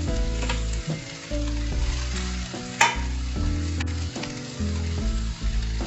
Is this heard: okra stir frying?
yes